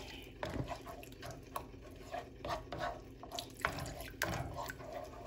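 Beef broth poured slowly into a pan for a Jollibee-style burger steak gravy, a thin splashing trickle with intermittent dribbles and clinks, close and moderately loud with no talking.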